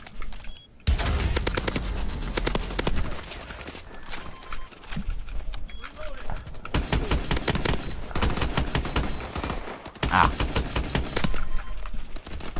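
Rapid gunfire rattles in loud, repeated bursts during a Call of Duty Advanced Warfare Exo Survival match, broken by short gaps and mixed with other game effects.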